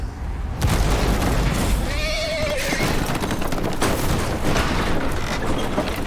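A horse neighs in a rising and falling whinny amid a dense, noisy soundscape with booms and rumbling effects in the video game Telltale's The Walking Dead: The Final Season.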